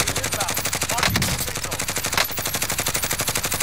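Rapid automatic gunfire in the video game Warzone, a loud rhythmic stream of evenly spaced shots running throughout with a couple of heavier blasts mixed in.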